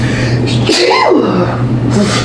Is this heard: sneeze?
yes